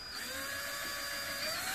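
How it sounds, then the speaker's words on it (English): A power drill whirs steadily during construction of a wooden dog box, a close, high-pitched motor whine with a slight rise in pitch, heard alone for under two seconds. "Don't get your hair caught in the drill."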